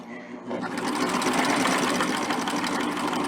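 Sewing machine stitching quilt binding with a knit-woven double-fold bias binder attachment, a steady fast mechanical whir that starts after a brief pause and runs continuously and close.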